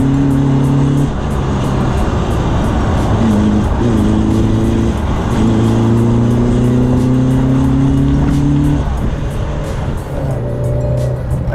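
A Citroën AX Sport or AX GTI small hatchback engine revs steadily while driving, pitch climbing through gears with brief drops at shifts, loud and close throughout.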